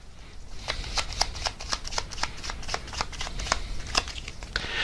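A deck of tarot cards is shuffled close by, with a steady run of soft riffling slaps and flicks, quiet and continuous, with no voices over it.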